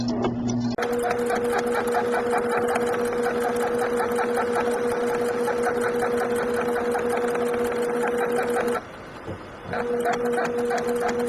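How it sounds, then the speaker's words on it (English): A sewing machine stitching a fitted fabric face mask runs in a long, steady, rapid mechanical whir, close and loud, with a brief pause as the fabric is turned before the stitching resumes. No one talks. "I'm going to turn and put the presser foot back down and keep going this way."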